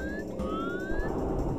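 Mechanical elevator whirring and ratcheting in the video game Super Mario 64, a steady clanking drive with a rising tone, moderately loud and continuous over background game music.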